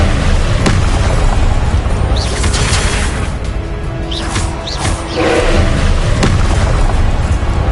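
Expelliarmus spell cast in the video game Hogwarts Legacy: a few deep booming magical blasts with sharp crackling onsets burst out over a dense, steady wash of game sound, with no voices.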